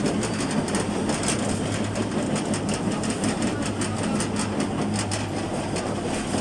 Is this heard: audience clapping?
no